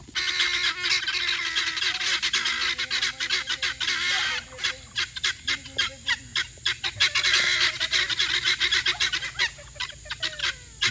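Four guinea fowl calling loudly and continuously near a garage, harsh repetitive rhythmic cackles overlapping in a dense, insistent chorus.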